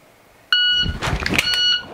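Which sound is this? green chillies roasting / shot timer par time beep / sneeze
shot timer par time beep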